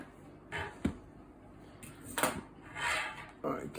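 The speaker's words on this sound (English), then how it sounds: "Could also put a chopping board down." A chopping board is set down on a kitchen counter beside freshly baked bread, giving a few sharp wooden knocks and clatters among other handling noises.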